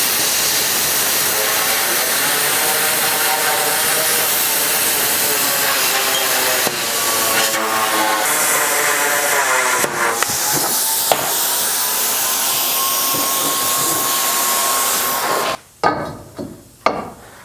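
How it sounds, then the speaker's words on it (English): A grinder cuts into a metal tube in a long, loud, steady grinding roar with a shifting whine, which ends abruptly and is followed by a few clanks. "then the grinder to grind that out"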